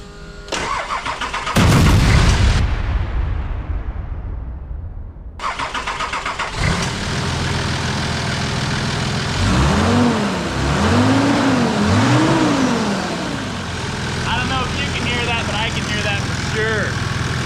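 A Nissan Patrol fitted with a new fan cranks and catches, then settles into a loud, steady idle with a strong whooshing of air. A few sweeping revs rise and fall near the end, and voices are heard briefly.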